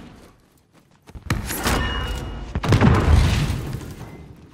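Gunfire in a shooter video game: a couple of loud booming blasts crack out after a quiet start, each trailing into a rumbling decay, with no voices over them.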